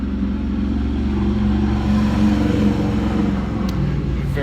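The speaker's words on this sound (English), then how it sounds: "Very loud motorcycle going by." A loud motorcycle passes near a front porch in the afternoon, a heavy low engine rumble that builds toward the middle and then eases away, steady and close, with no talking.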